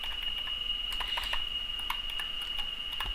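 Keys on a computer keyboard tapped in a quick, irregular run of light clicks, close and clear over a steady background hum.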